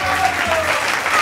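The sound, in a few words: studio audience applause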